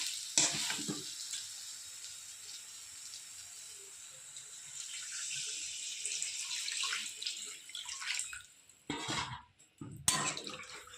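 Water poured into a well-cooked, sizzling spice paste for a rohu fish curry with potato and green banana, setting off a steady close hiss and crackle with sharp louder bursts of spluttering toward the end.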